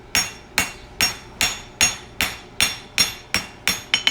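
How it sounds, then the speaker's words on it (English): A blacksmith's hammer striking hot steel on an anvil while forging horseshoe toe clips, about ten loud, evenly paced ringing blows that quicken at the end, heard alone without speech. "first couple of hits is going to be on the round side of my hammer."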